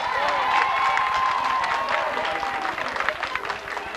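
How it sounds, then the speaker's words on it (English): Concert audience at a 1992 show applauding and cheering, dense clapping with whoops and a sustained held note or whistle, loud and close, tapering off toward the end. "Ladies, give yourselves a round of applause."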